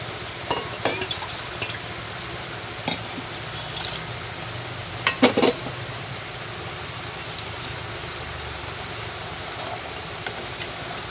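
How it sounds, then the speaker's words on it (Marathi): Water pours and trickles into a pan of cluster bean and potato curry, with a few sharp clinks and drips scattered throughout, close and fairly quiet. "आता आपण त्यात पाणी घालून देऊ"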